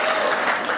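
Loud, dense applause fills a Hindi comic poetry gathering (hasya kavi sammelan), a steady wash of many hands clapping with no break across the short stretch.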